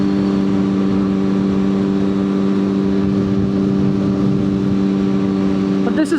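A 600cc motorcycle engine drones steadily while riding, a loud constant hum with wind rush and no pause, and a voice speaks over it.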